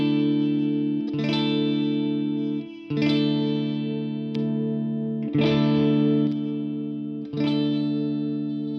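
Ibanez Iron Label electric guitar played through the outer coils of its humbuckers in the fourth pickup position, with chords struck about every two seconds and left to ring, each strum bright and slightly distorted with a chorus-like shimmer.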